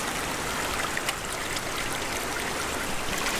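A stream of water crossing a hiking trail on the Salmon River Trail in the Pacific Northwest rushes in a steady, broadband splashing flow, close and continuous, with no voices.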